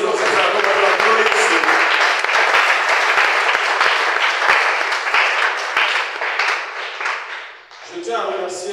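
A church congregation applauding steadily through a French evening service, dense clapping that fades briefly near the end before a voice begins speaking over renewed applause.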